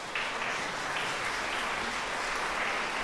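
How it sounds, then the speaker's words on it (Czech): A radio studio audience applauds to welcome a singer at a bagpipe folk music broadcast, a brief, dense, even burst of clapping heard close and loud. "přivítáte velkým potleskem"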